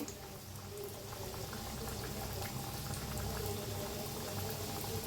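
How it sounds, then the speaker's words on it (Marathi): Pieces of sweet gaja dough fry in hot oil over a medium flame, making a dense, steady bubbling sizzle that stays constant and fairly quiet throughout, close by with no talking. "आता हे बाकीचे बी तळून घेऊया."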